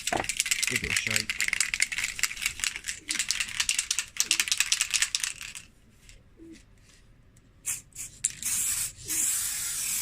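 A Woodland Scenics layering spray bottle is shaken hard, producing fast rattling bursts of the agitator ball, then a pause and a few shorter rattles.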